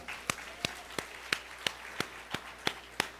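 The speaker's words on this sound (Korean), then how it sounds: "하나님께 박수의 영광." Sharp, evenly spaced claps from a church congregation ring out about three times a second, crisp and fairly distant in a reverberant hall, with no talking.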